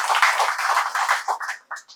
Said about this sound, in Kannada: ಅದಕ್ಕೆ ಒಂದು ದೊಡ್ಡ ಚಪ್ಪಾಳೆ